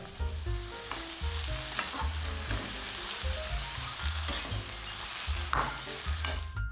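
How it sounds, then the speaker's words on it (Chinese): Pork being stir-fried in a pan with scallion, ginger, Sichuan peppercorn, cinnamon, bay leaf and star anise: a steady close sizzle with repeated scraping stirs of the spatula, continuous and without any talk. "加入佐料之后，简单的翻炒几下"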